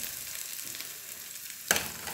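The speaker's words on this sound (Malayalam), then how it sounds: "ഇത് ചേർത്തിട്ട് കരിഞ്ഞു പോകാതെ ലോ ഫ്ലെയിമിലിട്ട് ജസ്റ്റ് ഒന്ന് വഴറ്റിയെടുക്കാം." Crushed pepper and garlic frying with mustard seeds and fenugreek over a low flame, a soft even sizzle broken by one sharp scrape or clatter near the end.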